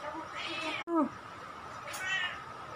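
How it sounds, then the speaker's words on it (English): A village cat of mixed Siamese breed meows outdoors, giving a few faint, drawn-out meows spaced apart against quiet background noise. "Ini kucing kampung kalau tidak silap, tapi ada campuran Siam."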